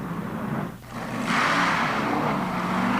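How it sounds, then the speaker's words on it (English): A Dodge Dart wheelstander drag car launches down a 1970s drag strip at the NHRA World Finals in Ontario, California, its engine roaring up after a brief dip and holding a loud, steady, distant-sounding rasp. "you're watching Bill Shrewsbury make this Dodge Dart stand on its hind legs and bark at about 116 miles per hour"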